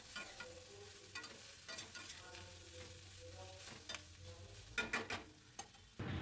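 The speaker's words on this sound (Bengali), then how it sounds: "দিয়ে আবার বেশ ভালো করে নাড়াবো" Spices, turmeric and Kashmiri red chili powder are stirred in hot oil in a pan for a fish curry, giving a soft continuous sizzle broken by scraping stirring strokes, close and fairly quiet with no talking.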